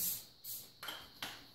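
Olive oil spray misted over whole roasting chickens in three or four short hissing bursts, close and fairly quiet, with brief pauses between.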